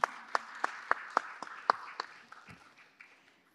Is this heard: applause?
yes